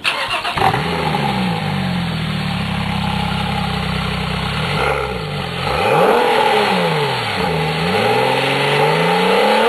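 A 2010 Porsche 911 Turbo engine revs up loudly and close, its pitch climbing through several rising sweeps with brief dips between gear changes, heard alone without talk.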